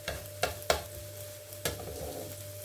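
Banana pancakes cooking in a pan over medium heat, a steady soft sizzle with a few sharp clacks of a utensil against the pan, close by and no talking.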